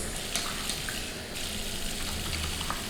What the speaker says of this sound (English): Then it's time to rinse.